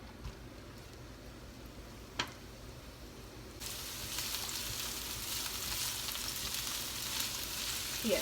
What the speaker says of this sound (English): I'm just going to let these saute for 3 to 4 minutes